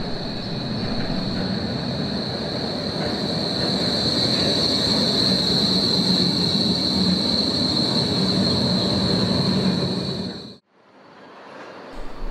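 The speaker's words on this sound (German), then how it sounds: "Die Bahnen wenden hier in einer größer angelegten Blockumfahrung" A Berlin tram rounds a tight loop near Hackescher Markt with a steady, piercing wheel squeal over rumbling rail noise for about ten seconds, then the sound cuts away abruptly.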